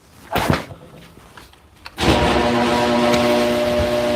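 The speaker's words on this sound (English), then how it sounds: "let me close the garage door so I can cut the light on back there" A garage door in a home carpentry workshop starts closing after a few faint knocks, then rolls with a steady loud mechanical whirr and hum that continues to the end.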